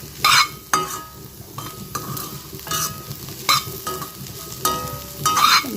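Potatoes and beans being stir-fried in a pan, a low constant sizzle punctuated by about eight sharp metallic scrapes and clinks of a spoon against the pan, without any speech.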